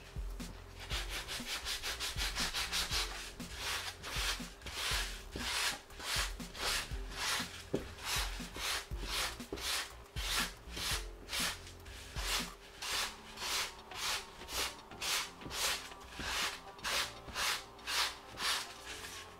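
A foam or wooden terrain hill model being sanded by hand, with loud rhythmic rasping strokes that speed up into regular back-and-forth passes, close and steady throughout, no talking.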